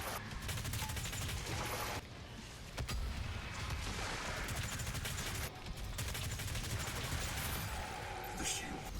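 Rapid weapon fire in the Doom Eternal video game on Ultra Nightmare difficulty, dense continuous bursts of shots with brief pauses, loud and busy throughout, with a voice speaking faintly underneath.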